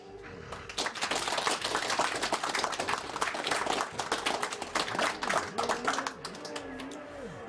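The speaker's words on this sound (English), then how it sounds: "he deserves a big round of applause" Audience applause at a speedrun charity marathon, a dense steady patter of many hands clapping for several seconds before thinning out.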